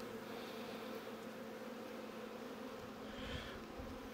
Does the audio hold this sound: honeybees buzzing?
yes